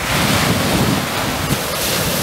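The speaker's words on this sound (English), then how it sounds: "Waves are coming in pretty good." Waves break and wash ashore at Schoolhouse Beach on Washington Island, a loud, continuous roar of surf mixed with wind buffeting the microphone, with no voices.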